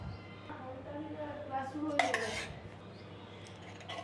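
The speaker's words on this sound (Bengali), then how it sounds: "এর সাথে আমের পিউরিটা মিশিয়ে দেব।" A spoon clinks and scrapes against a bowl while mango puree is stirred into milk, with a cluster of bright taps midway, close and soft, and a voice speaking throughout.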